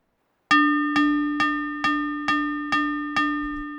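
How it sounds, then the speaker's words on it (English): A sharp, bright metallic guitar tone through a Bad Mood pedal's delay repeats seven times at a steady pace, each hit ringing out at the same loudness without decaying between repeats. "pretty strange to have a delay that just doesn't decay"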